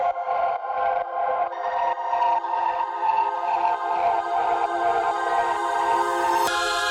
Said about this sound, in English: You can hear there that it's very like distorted and really creepy sounding.